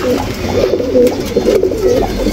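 Pet Huma pigeons, a main breeding pair and a second pair, coo in a low steady murmur at close range, continuous throughout with no talking over it.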